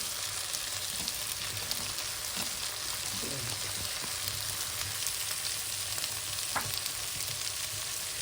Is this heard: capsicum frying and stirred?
yes